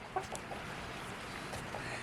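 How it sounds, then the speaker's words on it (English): A quiet barn workshop with faint, scattered clucks from a few chickens in the background against a steady low hum. "I have chickens running around, so you might hear them"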